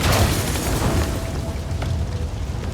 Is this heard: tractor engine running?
no